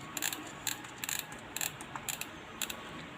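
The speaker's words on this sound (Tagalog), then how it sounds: "kailangan mo lang siyang kamutin para yung BB is aakyat" An airsoft AEG magazine on an M4 CQB is wound by hand to feed BBs up, giving short bursts of ratcheting clicks in an irregular rhythm with pauses, close and fairly quiet.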